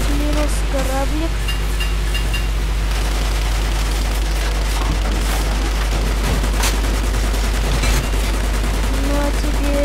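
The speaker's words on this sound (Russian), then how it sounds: "Так, мне кто-то стреляет." Gunfire in the video game War Thunder during a fight with a ship: dense, loud rattling volleys and booms over a constant low engine drone, with tonal game cues sounding through.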